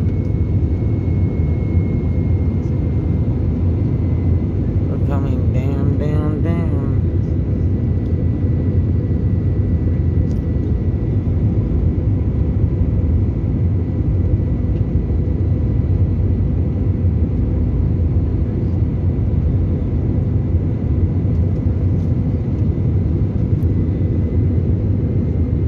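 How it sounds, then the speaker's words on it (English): Airliner cabin noise during a night landing at Charleston airport: a loud, steady engine and airflow roar that holds constant throughout, with a brief fluttering tone early on. "We are now landing in the"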